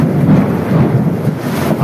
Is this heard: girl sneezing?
no